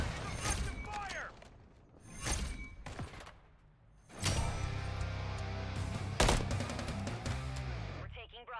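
Naval combat game gunfire: repeated heavy cannon blasts and bursts of rapid shots, with sustained rumbling battle noise between them and a loud crack near the end, voices faintly underneath.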